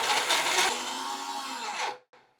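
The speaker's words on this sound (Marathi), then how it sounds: "मिक्सरला फिरवताना खूप थोडं थोडं फिरवायचं दोन ते तीन सेकंदासाठी" A kitchen mixer grinder whirs loudly for about two seconds, grinding semolina (rava) for karanji, then cuts off, followed by a brief fainter pulse.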